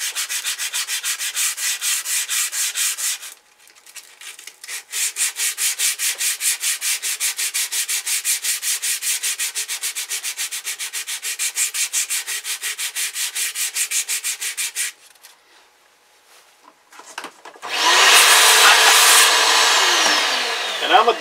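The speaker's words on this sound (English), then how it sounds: "All I'm doing, probably 100 grit sandpaper on my finger." Synthetic glass bedding compound on a rifle stock is hand sanded with 100 grit sandpaper wrapped over a finger, making rapid rhythmic scratchy strokes in long bursts with short pauses, then a louder rougher rush at the end.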